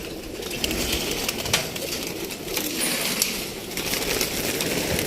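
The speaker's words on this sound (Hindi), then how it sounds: "बच्चे भी हैं और बड़े कबूतर भी हैं जी" Pigeons coo amid a busy wash of rustling, scratching and fluttering noise, close and continuous.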